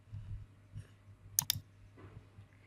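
Computer mouse clicks while working in MS Word: a quick double click stands out sharply near the middle, over a faint low hum in a quiet room.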